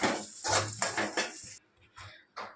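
Fried brinjal pieces scooped from a kadai onto a plate, a series of close metallic clinks and scrapes of a ladle against the pan, then a short pause and a few more light knocks.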